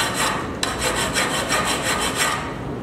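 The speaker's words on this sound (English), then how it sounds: "take your file, you're just gonna go right on the set screw marks and you're gonna file away any burrs" A metal hand file rasps over the set screw marks on a garage door torsion spring tube, taking off burrs in steady back-and-forth strokes, close and alone.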